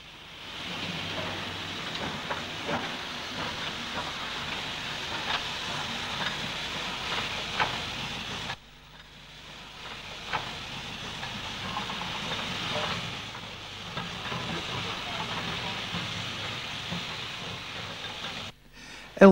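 London Underground E-class steam locomotive L46 shunting around a yard, a steady hiss and rumble of steam and rolling stock with faint clanks, broken by a short lull midway, then continuing.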